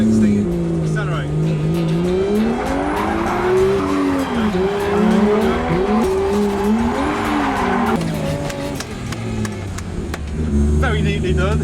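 A 550 bhp Chevrolet Camaro accelerating hard on a track, engine note rising and falling with tires squealing throughout, loud and close, with a voice talking over it.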